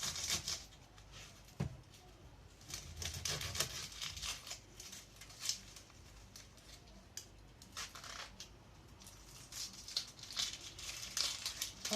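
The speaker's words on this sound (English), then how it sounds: "I will cut my onions first" Onions being cut on a board in a home kitchen while preparing samosas, with a steady run of close crisp knife chops and crinkling skin, brief soft pauses between strokes and no talking.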